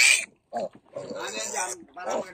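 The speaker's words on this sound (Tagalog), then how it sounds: "Update lang natin to mga biik ni nanay mga kaaloy" Piglets on a farm being bathed in hot weather squeal and grunt in short, close bursts, with a person talking over and between the animal sounds.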